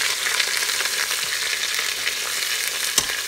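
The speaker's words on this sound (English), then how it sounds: "there's some oil jumping everywhere, going crazy" Oil sizzles hard in a hot Express CrockPot as pot roast meat sears, a dense steady crackling hiss with popping spatters throughout, loud and close with no voices.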